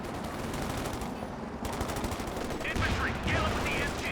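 Gunfire in the real-time strategy video game Company of Heroes 2, with dense rapid rifle and machine-gun bursts crackling continuously under game battle noise, a short lull before firing resumes.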